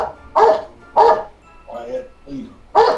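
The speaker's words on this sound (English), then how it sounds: "Quiet that dog." A dog barks in short, loud bursts close by, five or so separate yelps spaced about half a second apart, some sharper and some softer and whiny.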